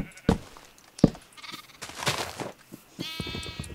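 Several short bleats from Minecraft sheep, a few close, loud calls spaced across a few seconds, with a brighter, buzzier bleat near the end.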